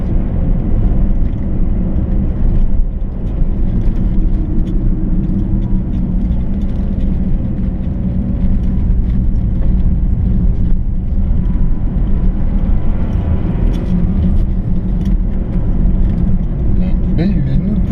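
A car descends a steep mountain pass road near Cluses, the engine held back under steady engine braking, a continuous loud low drone with road and wind rumble throughout.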